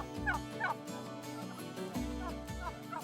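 Purebred Norfolk Black turkeys in a rafter on a farm in the Fens gobble in quick, warbling bursts over a low, continuous background murmur.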